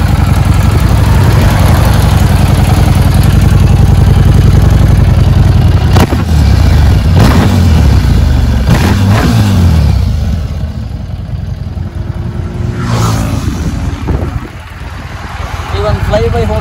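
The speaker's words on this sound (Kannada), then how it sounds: "ಇಂಜಿನ್ ಸೌಂಡ್ ಕೇಳಿಸ್ಕೊಳ್ಳಿ, ಇಂಜಿನ್ ಸೌಂಡ್." A new Harley-Davidson motorcycle engine idles loud and close with a steady low rumble, then rises in a few revs before settling back, a voice talking over it.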